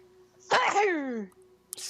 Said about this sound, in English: Sneeze, bless you.